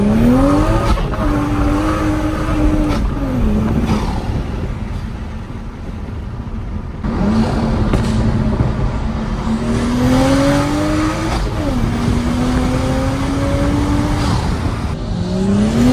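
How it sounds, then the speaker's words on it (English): 2023 manual Toyota Supra revving hard through repeated pulls, engine pitch climbing and dropping with each gear change, loud and close, with turbo and exhaust noise throughout. "The turbo noises, like just the exhaust, the pops."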